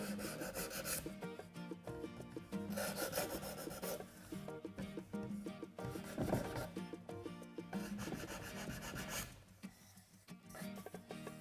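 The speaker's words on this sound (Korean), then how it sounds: "이렇게 만져보면 손에 거슬리는 부분, 이런 부분도 사포질." Sandpaper rasps against a wooden bookshelf in repeated back-and-forth strokes, close and fairly quiet, with brief pauses between passes.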